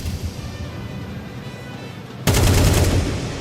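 Burst of automatic Tec-9 gunfire during a competitive Counter-Strike match between Falcons and FURIA, a sudden loud rattle cutting in over quieter background game ambience.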